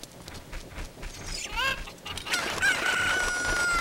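Chickens in the video game The Legend of Zelda: Ocarina of Time cluck and crow over a low, steady game background, with a rising cock-a-doodle-doo standing out in the middle.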